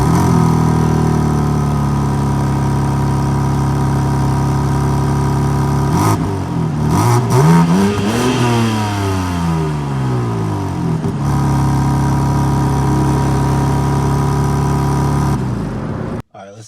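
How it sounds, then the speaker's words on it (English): A 2023 BMW M3 Competition engine idles with a steady low rumble, then is revved several times in quick, rising bursts before settling back to idle; close and loud. "I'm gonna start this up real quick so y'all can hear the engine yourselves."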